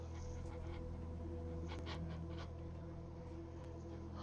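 A dog pants steadily in the Wasteland 3 video game, a soft, rhythmic breathing sound that stays quiet against a faint background hum.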